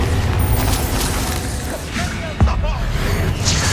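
In the video game Hogwarts Legacy, a Bombarda spell explosion gives a short booming burst amid whooshing spell effects and a continuous clatter of game sounds.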